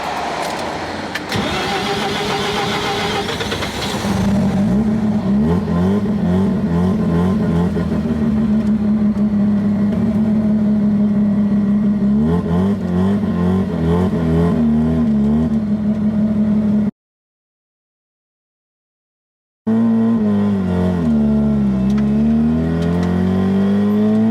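A rotary-engined Suzuki Samurai with turbo boost revs hard and accelerates, the engine note rising and falling through several pulls, loud and close, broken by a short gap of silence before it resumes.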